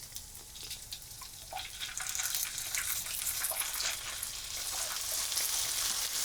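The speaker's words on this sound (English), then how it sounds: "When the sausages are done frying, turn the heat to low" Steady crackling sizzle of sausages frying in a skillet, continuous and close, building slightly louder after the first couple of seconds.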